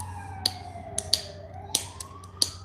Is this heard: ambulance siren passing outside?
yes